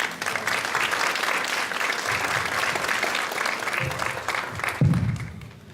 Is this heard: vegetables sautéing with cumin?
no